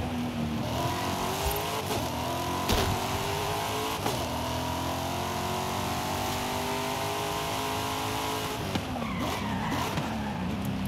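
Car driven in Forza Horizon 5 on PC, a steady engine drone with shifting revs and tire squeal, loud and continuous, with a few sharp knocks along the way.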